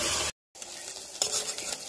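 Spice paste sizzles and fries in a pan on a village cooking fire while it is stirred, with steady close crackling, one brief dropout and a few scraping stir strokes.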